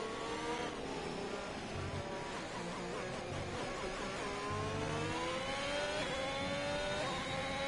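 F1 2021 race cars screaming around the Mexico circuit in an online league race, a dense, continuous high-revving engine whine with shifting pitch sweeps as cars jostle close together.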